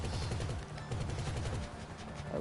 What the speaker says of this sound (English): See, I'm trying to shoot.